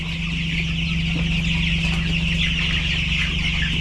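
Young chickens in a brooder cluck and peep in a steady, close chorus, with a constant low hum running underneath.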